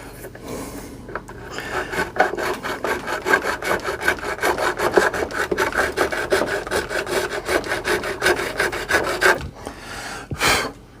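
Guitar frets on an IYV semi-hollow jazz guitar being filed and crowned, a close rasping file stroked back and forth in a fast steady rhythm for several seconds before stopping, with brief pauses and a final scrape.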